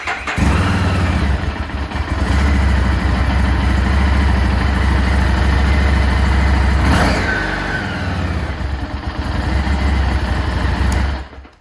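A Harley-Davidson Street 750 motorcycle engine fires up and settles into a loud, steady, slightly noisy idle close by, with a brief blip around the middle before it cuts off at the end.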